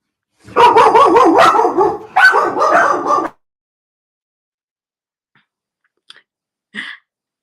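Dogs bark at someone at the door in a loud, close burst of rapid overlapping barks lasting a few seconds, then fall quiet, with a couple of faint distant yips afterward.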